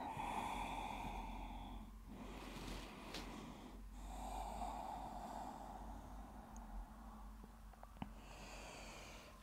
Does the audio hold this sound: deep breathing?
yes